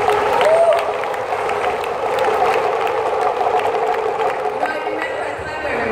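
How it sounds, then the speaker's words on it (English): An audience at a business success event gives a steady round of applause mixed with cheering and crowd chatter, holding fairly loud and even throughout. "get another round of applause"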